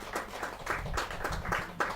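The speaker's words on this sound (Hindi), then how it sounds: "जोरदार ताली के साथ" Rhythmic group clapping from a crowd at a Hindi comic poetry gathering, a brief run of evenly spaced claps heard faintly from a distance.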